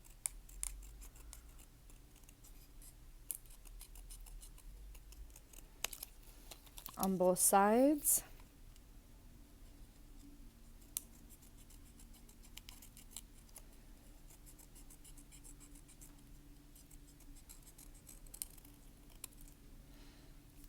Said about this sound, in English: you're going to take some scratch piece of red paper and you're just going to cut out a tongue